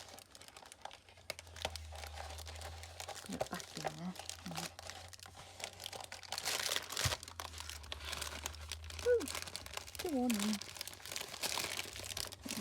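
Gnome-print wrapping paper crinkles and rustles as it is folded around to the back and slid off again, close by and moderately loud, with someone talking over it.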